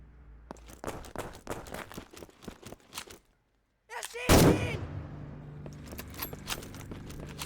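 Rifle gunfire in the war video game Conscript: light mechanical clicks and rattles, a brief silence, then one loud close shot with a ringing tail, followed by more faint handling clicks.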